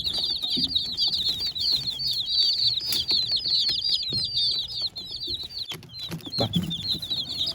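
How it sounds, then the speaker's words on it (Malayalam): Chicks peep in a rapid, constant high chatter while a hen gives occasional low clucks nearby, with a few light rustles and bumps. "ഇതാണ് ഉമ്മാന്റെ കോഴി പുതിയ കോഴിക്കുട്ടികളാ"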